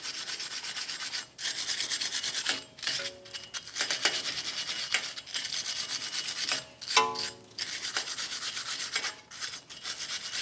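Wire brush scrubbing the mating surface of a wheel bearing hub on a 2009-2019 Ford Flex during a front brake job, a steady close rasping scrub in long strokes with brief pauses between passes.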